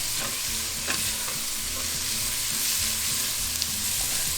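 Onion and celery sauté in a pan with a continuous close sizzle. Scraping stirring strokes cut through it now and then.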